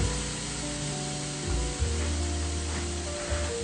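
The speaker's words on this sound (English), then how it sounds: "I'm adding in some Cajun style diced potatoes" Cajun style diced potatoes tumble into a hot pan with a brief spray-like rush and sizzle, steady and close throughout, with no voice over it.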